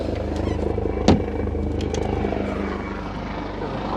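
Helicopter passing directly overhead near a high-end superyacht tender (Ribeye Prime Eight21 RIB), a steady loud rotor and engine drone filling the whole clip with a brief sharp thump partway through, no talk.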